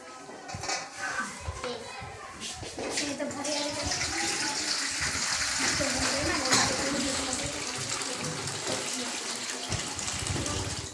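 Water pours steadily into a container for a floating-and-sinking vegetable experiment, a continuous rushing stream heard at low level beneath children's chatter and play in the background.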